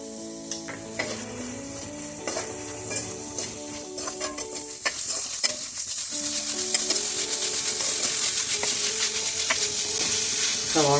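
Onions fry with a little salt for a brinjal masala curry, a close steady sizzle with occasional spoon clinks against the pan, growing louder and busier toward the end.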